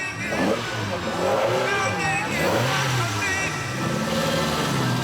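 A historic French rally car pulls away at Tour Auto 2003, its engine revving and rising in pitch, under a commentator talking throughout.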